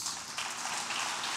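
A church congregation claps together in praise, a dense, even wash of applause that sounds slightly distant and keeps a steady level through the short moment.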